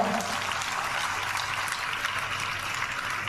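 Audience clapping steadily at a children's event, a dense even patter of many hands held at constant loudness for the whole stretch, with a faint voice briefly near the start.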